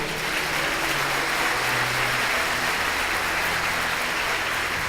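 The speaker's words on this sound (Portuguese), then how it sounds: "Se você crê, você dá um aplauso ao Senhor." Congregation in a church clapping for the Lord, a dense, steady wash of many hands applauding continuously at close-to-moderate distance, fairly loud and unbroken throughout, with no talk over it.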